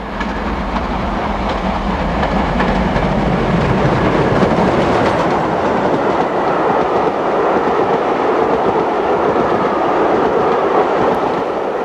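A steam passenger train roars past close by at Whitchurch, a heavy continuous rumble with faint rhythmic clatter, loud and steady throughout.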